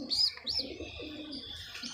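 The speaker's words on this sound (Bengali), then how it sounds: "এইভাবে খাওয়াবেন তো পায়রার বাচ্চা তাড়াতাড়ি বড় হয়ে যাবে" A young pigeon chick coos and chirps in short soft bursts while being hand-fed chickpeas, faint and close, with light rustling underneath.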